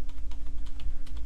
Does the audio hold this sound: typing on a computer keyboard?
yes